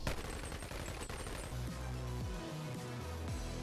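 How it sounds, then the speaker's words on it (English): Gunfire in the VR game Bonelabs, aimed at a crablet's head and followed by a reload: a rapid burst of sharp shots up front, then scattered mechanical clicks and tonal sweeps, loud and close. "I gave the crablet so many bullets in the head that I had to reload to shoot at him more."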